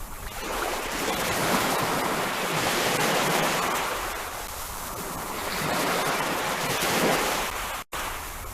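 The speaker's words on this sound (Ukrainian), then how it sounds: "І ось ви вже на узбережжі океану. Слухаєте хвилі і релаксуєте." Ocean waves surge and wash onto the shore in slow, broad swells, a steady rushing roar with no voices.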